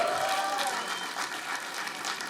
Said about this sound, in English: The clap must not stop.